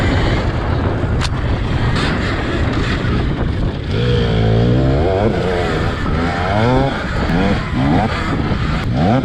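Loud, close racing motorcycles roar on a dirt course, their engine whine rising and falling as gears change and several bikes pass, with the noise continuous throughout.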